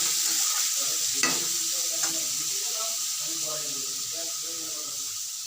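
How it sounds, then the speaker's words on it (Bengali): A chorchori of greens, potato and eggplant cooking in a pan, giving a steady, loud sizzle and hiss throughout with occasional stirring scrapes and faint background voices. "শাক আলু বেগুন দিয়ে একটা চচ্চড়ি হচ্ছে"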